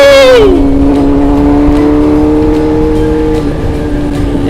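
A 600cc big motorcycle engine is revved high, then the pitch sweeps down quickly and settles into a loud, steady, close drone that runs for several seconds.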